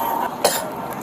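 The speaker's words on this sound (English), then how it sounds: "seems to be experiencing shortness of breath and coughing, clear indicators of smoke inhalation" Two short, sharp coughs from a police officer at a car crash scene after smoke inhalation, spaced about half a second apart over a steady background hiss.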